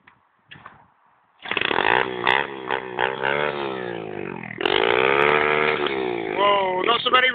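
A small pit bike engine, started in neutral, revs hard and loud up close in long sustained bursts with rising pitch, after a short quiet start with a brief sputter.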